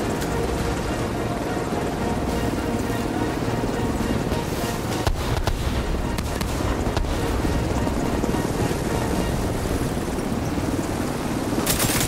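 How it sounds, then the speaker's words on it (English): Quadcopter drone flying in Tom Clancy's The Division 2, a dense loud whirring buzz mixed with dense in-game gunfire and rumble that continues throughout. "Quadcopter."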